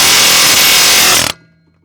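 A Milwaukee M18 FUEL cordless power hammer rattles loudly and continuously as it works a tie rod loose from a car's steering, hammering hard for over a second before cutting off abruptly into silence.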